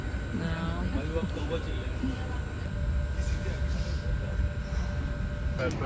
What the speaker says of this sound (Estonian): Tagasi rongis, oleme rongi teisel korrusel.